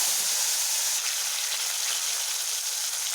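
Onion and a bay leaf frying in hot oil in a home kitchen, giving a steady, close hiss and sizzle that runs unbroken throughout, with no talking.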